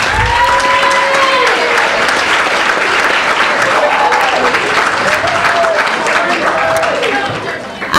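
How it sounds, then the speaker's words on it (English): Sustained applause from a crowd at a high school winter sports banquet fills the whole stretch, steady and loud, with a couple of brief vocal tones rising through the clapping. "So give a round of applause for our Emeralds."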